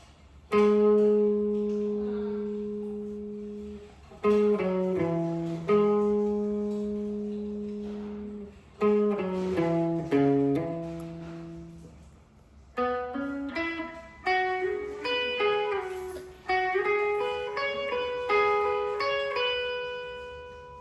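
A slow acoustic guitar passage, plucked notes and brief phrases, each note ringing out and decaying, with pauses between groups, played alone.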